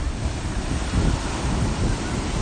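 Close, loud roar of ocean waves washing over a sandy beach near the dunes, with heavy wind rumble on the microphone and a swelling surge near the middle.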